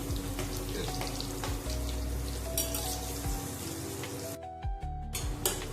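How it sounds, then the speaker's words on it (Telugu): Curry leaves frying in oil for a South Indian fish curry, a watery crackling sizzle close up that briefly drops away before resuming, no talking. "తర్వాత కొంచెం కరివేపాకు వేసుకుందాం. ఇవి కొంచెం వేగిన తర్వాత"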